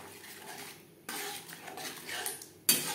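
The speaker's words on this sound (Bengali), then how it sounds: "টক দইয়ের মিশ্রণ মশলার সাথে বেশ ভালো করে মিক্সড করে দেব" A spoon stirs a sour yogurt mixture into cooked spices in a metal pan for a Bhola bhetki fish curry, giving scraping and clinking strokes in short bursts with a louder knock near the end.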